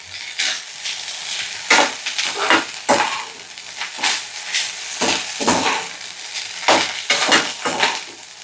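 Rice being stirred in a pan with ghee or oil, a series of scraping, sizzling strokes from a spoon against the pan arriving in an irregular rhythm, close and clear with no talking.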